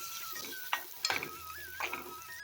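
Dried fruits mixed into beetroot halwa in a pan with the stove turned off, producing a few soft scrapes and clinks of a spoon against the pan over a faint background.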